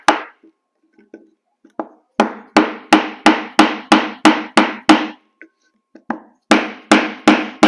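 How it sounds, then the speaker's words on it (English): A hammer taps a rear main seal flush into a Miata engine with a run of about a dozen sharp, evenly spaced blows, close and loud, with a few lighter taps before them and a pause partway through. "I'm going to tap it down"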